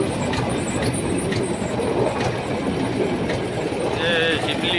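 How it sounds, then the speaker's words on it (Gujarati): A train rolls past a closed railway crossing, loud and close, with a steady rumble, clattering wheels and brief high wheel squeals. Faint voices sit underneath. "ઘડીક ઉભા ટ્રેન આવે ને પછી બતાવું તમને"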